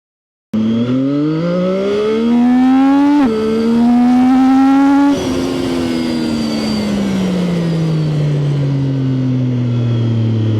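A Triumph 675 motorcycle accelerates hard, its engine note climbing through rising revs with two quick gear changes, then easing into a long falling drone as it settles, loud and close throughout.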